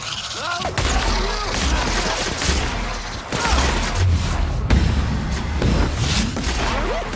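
Gunfire erupts during combat in The Outer Worlds, with repeated loud shots, booms and impacts in irregular bursts over a busy battle din, with shouting voices mixed in.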